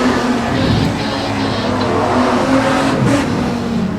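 Street stock race cars compete in a heat at Redline Raceway for the Australian Title, their engines a loud, continuous roaring blend with shifting revs throughout and no voices.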